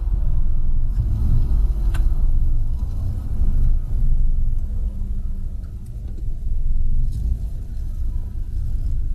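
A car reverses with a steady low engine rumble and slight swells of revving, heard close and alone with no talking, while trying to get free after hitting an obstacle.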